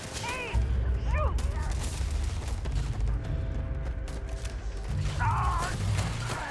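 Gunfire in the Starfield video game, a steady clatter of rapid shots and thumps in a firefight, with voices calling out over the shooting.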